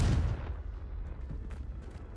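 A single Confringo fire-spell explosion in the video game Hogwarts Legacy, a loud, close boom at the start that rumbles and fades into a low, crackling tail.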